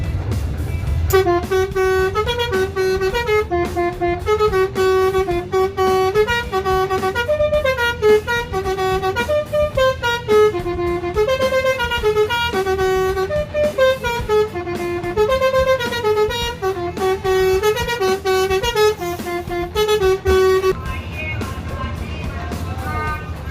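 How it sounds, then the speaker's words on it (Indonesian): Inside Terminal Baru Solok, a bus terminal in West Sumatra, loud horns toot in long, repeated melodic honks over a steady engine rumble, continuing for most of the stretch before fading near the end. "kita udah memasuki Terminal Baru Solok, Sumatera Barat"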